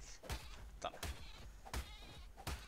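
A goat in a video game bleats in short repeated calls, about four evenly spaced bleats, fairly close and alone without talk.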